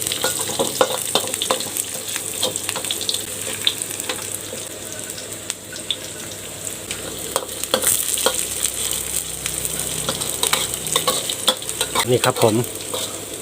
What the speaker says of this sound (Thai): คั่วจนกระเทียมหอมเหลืองนะครับผม นี่ครับ ใกล้หอมแล้วก็หอมแดงเลยครับใส่ลงไป